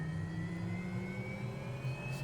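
MD500E helicopter turbine whine and spinning rotors in MSFS2020, a steady high tone over a low droning hum, continuous and fairly loud throughout, with no voices.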